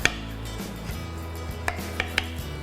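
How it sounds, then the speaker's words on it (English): Knife cutting into baked bread pudding with a crispy crust and moist middle, a few light, crisp cutting taps spread over a couple of seconds against quiet background tones. "So I'm gonna go ahead and cut into this and serve it up"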